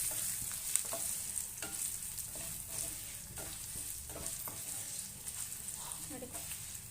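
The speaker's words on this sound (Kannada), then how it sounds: "ಇವಾಗ ನಾನು ಕರಿಬೇವಿನ ಸೊಪ್ಪು ಮತ್ತು ಒಣಮೆಣಸಿನ್ಕಾಯಿ ಸೇರಿಸ್ತಾ ಇದ್ದೀನಿ" Curry leaves and dried red chillies fry in masala in a pan, giving a soft continuous sizzle with occasional stirring scrapes, close and fairly quiet, with no talking.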